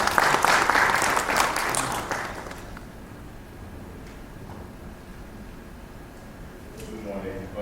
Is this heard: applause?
yes